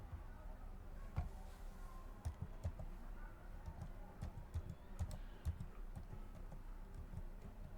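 Keys clatter steadily on a computer keyboard as an Aadhaar number is entered into an online GST registration form, the clicks close and fairly quiet over a faint room background, with no talk.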